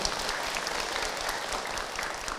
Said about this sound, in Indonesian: Oke, baik Ibu, tepuk tangan untuk Uus